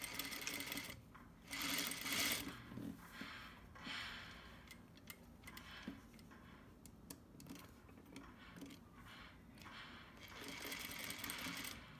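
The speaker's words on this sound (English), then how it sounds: "turn it right sides together so that we can sew the edges" A sewing machine stitches the edges of a fabric bow tie in quick rattling bursts separated by short pauses, close by and with no voices.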